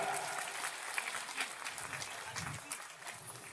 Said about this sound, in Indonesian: Tepuk tangan untuk Sayyid Zulfikar.